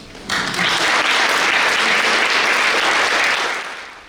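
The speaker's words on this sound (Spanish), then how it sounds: "Aplauso." An audience at a university theatre event breaks into applause, rising quickly to a full, even burst of clapping that holds for about three seconds, then fades out.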